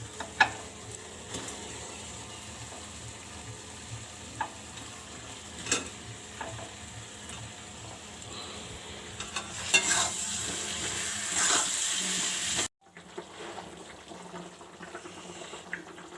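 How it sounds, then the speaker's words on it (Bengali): A potato, cauliflower and paneer curry simmers in a wok, a soft continuous bubbling and sizzle with a few clinks of stirring before it cuts to near quiet. "এবার তরকারিটা ফুটে উঠেছে"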